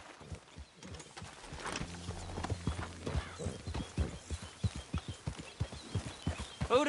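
Horse hooves trot in Red Dead Redemption 2 with a quick, regular clip-clop that grows louder and closer as it goes on.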